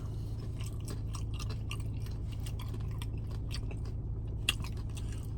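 Close, steady chewing and crunching of spicy beef nachos with jalapeño, repeated crisp bites and wet mastication with no talking.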